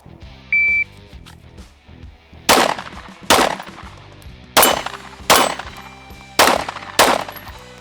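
Six sharp pistol shots ring out at a target in a measured, fairly even rhythm, each loud and close with a short echoing tail, preceded by a brief timer beep.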